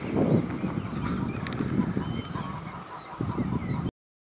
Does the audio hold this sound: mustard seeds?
no